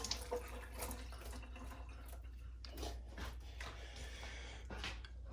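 Tap water runs in a faint, steady stream with soft splashing while raw chicken is rinsed in a kitchen sink for an oven stew, the flow fluctuating slightly as the meat is turned under it.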